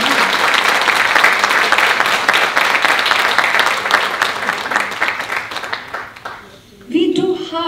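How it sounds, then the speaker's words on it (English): An audience at a medal ceremony bursts into loud, sustained applause, dense clapping filling the room before thinning out, followed by a short burst of speech near the end. "Louder applause. We are celebrating."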